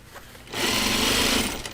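A sewing machine stitches fabric for a laundry basket, starting after a quiet moment into a loud, fast, even mechanical whir that runs for about a second before easing.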